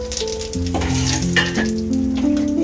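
Dried chilli, bay leaf, whole cumin, cinnamon, clove and cardamom frying in hot oil, a steady close sizzle that runs through the whole stretch with no talk, with some tonal hum layered underneath.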